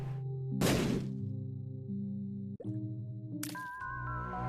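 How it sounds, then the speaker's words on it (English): A bomb in The Binding of Isaac goes off in a short, punchy burst over steady game music, followed by a softer thud and then a second bright crash, all close and clear. "I'm gonna bomb here, I suppose"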